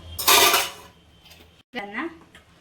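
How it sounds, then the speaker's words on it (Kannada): A metal lid clatters loudly onto a cooking pot for dum biryani in one sharp, ringing clash, followed by a brief voice. "ಈ ಥರ ಪಾತ್ರೆ ಇದ್ದರೆ ಹಿಂಗೆ ಮುಚ್ಚಿ"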